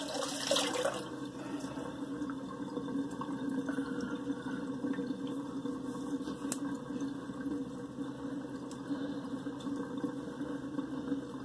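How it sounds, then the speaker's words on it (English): Water drains and gurgles out of a bathroom sink after a wet-shave rinse, with a brief splashy burst at the start, then a steady, fairly quiet trickling flow. "Let that water out."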